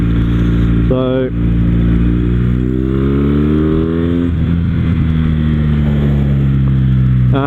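Kawasaki W800 cafe racer motorcycle with performance mods, its engine loud and close, idling steadily and then revving up in a rising pitch before settling back, with a brief spoken word near the start.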